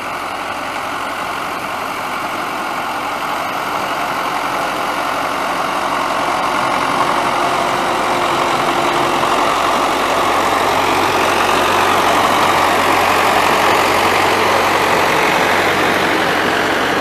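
MTZ tractor engine running steadily while driving with a ZIL-157 trailer on an old forest track, a loud continuous low diesel drone that swells slightly partway through, with no talking.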